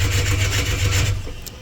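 A Ford Fairmont 4.0 engine with no spark cranks without firing, a brief rhythmic, pulsing starter churn, close and fairly loud, that fades slightly near the end with no catch.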